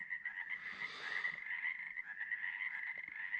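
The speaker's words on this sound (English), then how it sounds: "Getting a lullaby from the frogs." A chorus of frogs croaks steadily in the distance, a continuous trilling drone that rises and falls slightly without pause.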